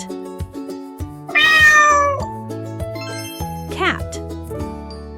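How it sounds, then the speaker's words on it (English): A cat meows once, a bright rising-and-falling call set over a bouncy children's music backing. "Cat."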